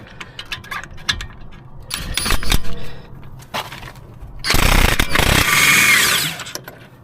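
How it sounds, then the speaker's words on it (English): An impact tool driving an 18mm wobble socket on a wobble extension while removing the brake caliper of a Mercedes-Benz W212 E250 4matic: clanking of tools, then a short rattling burst and a longer loud hammering run, close and without speech. "I'm going to use this impact tool and wobble extension, wobble socket 18mm."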